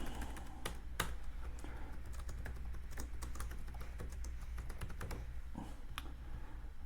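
Fingers type on a computer keyboard in irregular bursts of light clicks, with a few sharper key strikes, close and moderately quiet over a low hum, with no talking.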